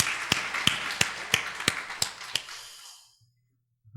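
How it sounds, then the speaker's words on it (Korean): Rhythmic applause from a church congregation during Sunday worship: a steady run of sharp, evenly spaced claps in unison that ring out with a reverberant tail, then fade into near silence. "우리 박수 한번 쳐드리죠."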